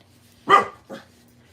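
A dog barks twice at close range, a louder bark followed by a shorter, softer one, over an otherwise quiet background with a faint low hum.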